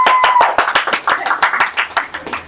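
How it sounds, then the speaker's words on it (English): A live studio audience at a game-show livestream claps in a quick burst of close, sharp hand claps that thin out over a couple of seconds. "Can I hear a round of applause from the studio audience?"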